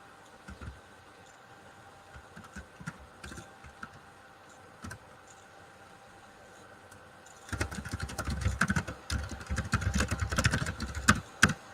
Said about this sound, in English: I bet my keyboard is loud as I'll get out